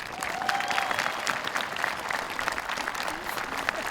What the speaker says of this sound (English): So please, again, give yourselves a round of applause.